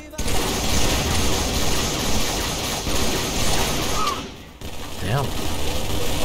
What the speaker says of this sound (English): Were those the SMGs dual wielding?